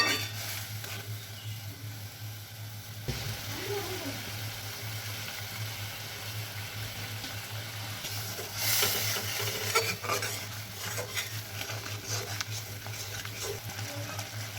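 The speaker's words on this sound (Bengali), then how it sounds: "এবার আমাদের মশলাটা ফুট ধরেছে।" Spiced masala gravy for an okra curry cooks over a high flame and starts to bubble, giving a soft, continuous sizzle with occasional stirring scrapes and a brief louder spatter near the middle.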